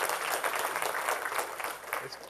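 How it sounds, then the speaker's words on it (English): Applause from a conference audience at a Cloud Expo keynote, a brief, soft patter of clapping lasting about two seconds, heard from a distance. "Let's just applaud again, because it was a good"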